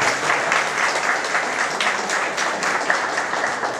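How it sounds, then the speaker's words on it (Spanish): Students in a large crowd at a school service event applaud their teachers with dense, sustained clapping that stays even and loud throughout. "Les pido a los estudiantes que les den un poco de aplauso a sus profesores."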